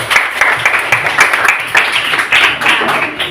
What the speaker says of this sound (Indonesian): tepuk tangan untuk Jason